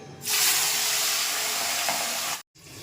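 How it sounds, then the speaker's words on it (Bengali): A fish head drops into hot oil with a loud, steady sizzle that lasts about two seconds, cuts off abruptly, then returns more quietly; close and with no talking. "এবার আমি মাছের মাথাটা ভাজবো"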